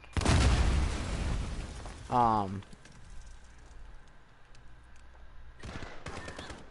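A loud blast opens a Call of Duty match, with a grenade explosion and gunfire bursts followed by a quieter rumble and a later crack. A player talks over the game sounds.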